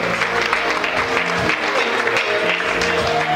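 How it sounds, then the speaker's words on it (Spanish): Guests at a wedding reception clap for the children accompanying the newlyweds. The applause is close, full and continuous, with music and a faint voice underneath. "Fuerte las palmas para los pequeñitos que están acompañando también a esta pareja de recién casados."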